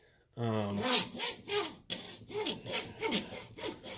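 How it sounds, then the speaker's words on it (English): A small hacksaw scrapes back and forth across a piece of wood to score a light mark, giving about six close, rhythmic rasping strokes with no talking. "I'm going to take my little hacksaw and I'm just going to make a light mark in the middle of it"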